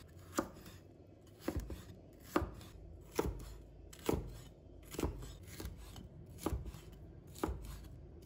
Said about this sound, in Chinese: 在中间切1刀，再改刀切成菱形块